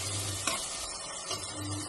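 Tomatoes sizzling in hot oil for a chicken curry, a steady close frying hiss with a couple of soft stirring scrapes, no voices.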